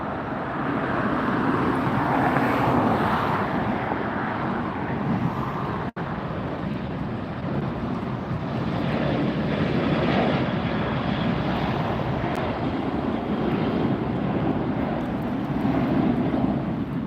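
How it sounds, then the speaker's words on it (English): A Southwest Airlines jet departs LAX with a broad, sustained engine roar that swells and holds for many seconds, heard from a distance without talk. "Here is Southwest heading out"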